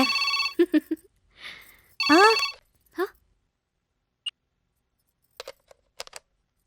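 A telephone rings in two short electronic bursts, mixed with a voice, followed by a faint beep and a few light clicks.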